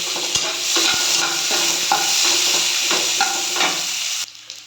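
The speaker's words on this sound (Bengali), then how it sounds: "এবার আমি কেটে রাখা পেঁয়াজগুলো দিয়ে দেব।" Loud, close sizzle of chopped onions frying in oil with bay leaf and five-spice tempering, with repeated scraping stirs of a spatula against the pan before the sound cuts off.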